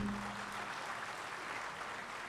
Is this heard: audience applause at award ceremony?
yes